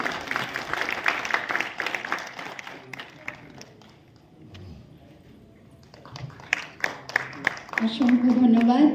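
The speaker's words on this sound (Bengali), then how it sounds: "করতালি দিন।" An audience at a national theatre festival in Naihati applauds, clapping in bursts that fade out and then pick up again, with someone speaking over part of it.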